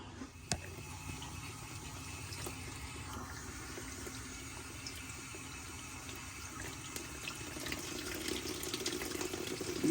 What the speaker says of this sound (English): we'll run water through here and hopefully flush everything out down there